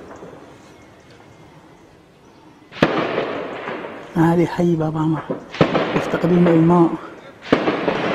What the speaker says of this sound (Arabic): إطلاق نار.